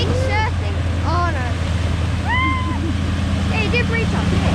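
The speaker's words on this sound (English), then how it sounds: "Speedboat. Well, look at the waves." Speedboat running over ocean waves: steady low engine drone and rushing water with wind buffeting the microphone, while people talk and exclaim over it.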